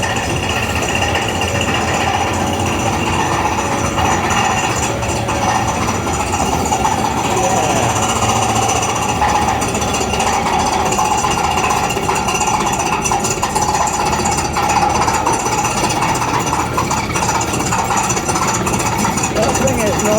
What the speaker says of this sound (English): and they're drilling over here.